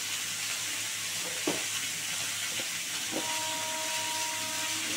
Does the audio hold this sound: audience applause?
no